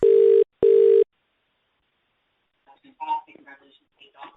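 A telephone dial tone sounds in two loud, steady bursts with a brief gap between them while a call is placed, then silence, then faint speech from the line.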